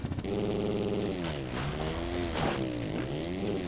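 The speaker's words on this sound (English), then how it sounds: "I think they changed the engine sounds, and as part of that, it seems like my engine is now quieter than it ever was before" A motocross bike engine in the video game MX vs. ATV Legends drones steadily at close range, its pitch dipping and rising as the throttle changes, with no talk over it.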